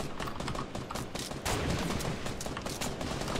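Dense, continuous gunfire in a Fortnite match, with rapid overlapping shots and bursts filling the whole stretch at steady high loudness, close and busy throughout, with no talk over it.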